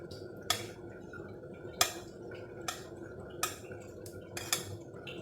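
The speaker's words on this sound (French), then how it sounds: "انا غادي نخلطو مزيان باش يدخل هذاك السمن مزيان في الكسكسو" Smen butter is stirred through Moroccan couscous in a bowl, giving soft, widely spaced clinks of a utensil against the dish over a low, quiet background, with no talking.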